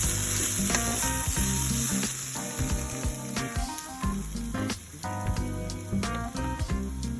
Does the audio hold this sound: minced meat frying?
yes